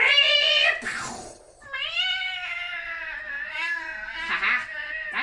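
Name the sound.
cat meowing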